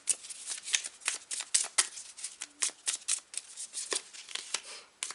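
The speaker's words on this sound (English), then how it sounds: "let's start shuffling the cards for pile 3" Tarot cards being shuffled close by, a quick run of crisp papery riffles and slaps in irregular bursts with no voices.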